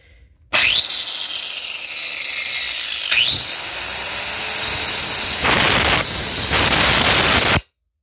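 A hand saw cuts through the oversized pulley on a washing machine (twin-tub) motor, giving steady continuous rasping strokes that run loud and close for several seconds before stopping abruptly.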